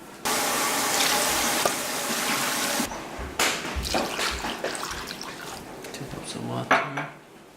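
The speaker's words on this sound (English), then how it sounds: "And I'm gonna fill up with 2 cups of water." Water poured from a tap into a cooking pot holding chopped carrots, a steady loud rush for several seconds, then clinks of the pot and utensils with brief running water near the end.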